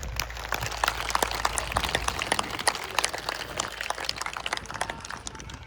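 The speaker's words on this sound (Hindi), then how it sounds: "एक बार ताली अपने लिए बजाइए" Crowd applause at a Hindu gathering in Ghaziabad, many hands clapping in a sustained, lively, slightly uneven patter with no voices over it.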